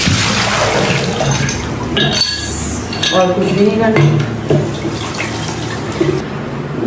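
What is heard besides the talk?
washing plant leaves with water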